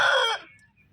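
A rooster at a poultry seller crows once, loud and close, the short call cutting off sharply after a moment and leaving only faint background noise.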